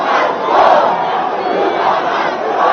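A large hostile crowd at Carnivore shouts at a government minister, a dense, loud, continuous roar of many voices yelling together with no single voice standing out.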